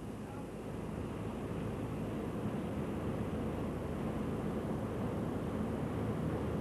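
A Consolidated PBY-5A Catalina flying boat drones overhead above the Enniskillen countryside. Its engines give a steady, unbroken low rumble and broad hiss, with no talking.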